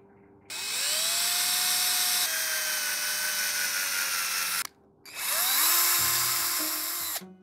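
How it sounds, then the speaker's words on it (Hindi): A power drill bores two holes in a guitar nut piece: a close, loud whine that spins up, holds, briefly stops, then spins up again for the second hole. "तो हम यहाँ साइड में 2 होल्स कर लेंगे।"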